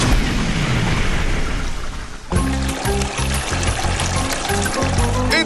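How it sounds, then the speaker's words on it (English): A toilet flushes with 20 litres of water, opening with a loud rushing cascade of water. Halfway through, a heavy rhythmic musical beat comes in over the flush. "with 20 litres of water cascading down upon it? Will it flush"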